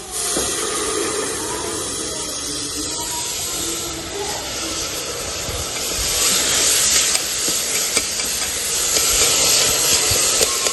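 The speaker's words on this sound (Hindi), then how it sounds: "दाल भी ना मसालों के साथ बढ़िया तरीके से फ्राई सी हो जाएगी" Lentils (dal) frying with spices and coriander powder in a hot pan give a loud, steady hiss that swells stronger in the second half, with no talking.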